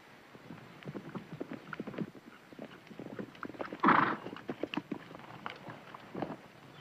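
Several horses clip-clop along in a western ranch setting, hooves beating a steady uneven rhythm at moderate distance, with a louder burst midway that may be a horse snorting or whinnying.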